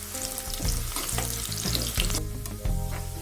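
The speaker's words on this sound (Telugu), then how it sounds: "ఉల్లిపాయ కొద్దిగా ఉడికిన తర్వాత ఇందులో ఎండుమిర్చిని వేసుకుందాము." Dried red chillies frying in an onion tempering for chirraku pappu, a steady close sizzle of hot oil with stirring scrapes and a few louder crackling bursts, no talking.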